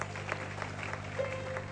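Church congregation clapping in a clap offering during a service, a steady patter of applause filling the room with no talk over it.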